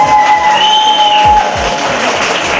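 Wedding guests applaud the newlyweds before their first dance, a steady wash of clapping running right through, with a bright held musical tone and a few low thumps sounding over it.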